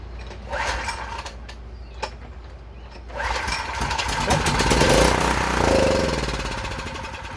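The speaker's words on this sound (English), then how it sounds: "so we got the engine running" A Gravely 7.6 garden tractor engine sputters a few times, then catches and runs with a steady chugging rattle, fairly close.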